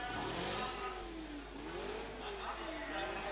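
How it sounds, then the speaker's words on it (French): A 1966 Formula 1 race car at the French Grand Prix slows onto the deceleration lane, its engine note rising and falling in muffled swells, heard through old lo-fi broadcast sound with a commentator talking over it. "Alors qu'une voiture arrive maintenant sur la piste de décélération."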